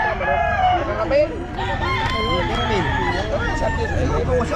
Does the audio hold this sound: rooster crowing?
yes